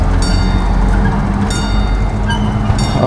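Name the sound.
next train arriving at station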